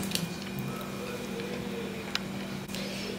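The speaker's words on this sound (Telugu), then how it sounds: "ఇలా బాగా చపాతీ పిండిలా మనం కలిపేసుకోవాలి" Maida flour dough is kneaded by hand with hot water for kajjikayalu, giving soft, faint squishing and pressing sounds at a steady pace over a low background hum.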